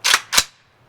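Two sharp cracks of 7.62x39mm Grom military ammunition fired from a rifle at an outdoor range, close and loud, about a quarter second apart, each one cut off quickly with no talk.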